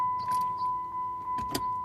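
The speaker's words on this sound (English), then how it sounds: "So you'll shift it into neutral first, turn off the vehicle" A Jeep ZJ is shifted and switched off in a garage: a few soft clicks, then a louder close double clunk near the end, over a faint steady electronic tone.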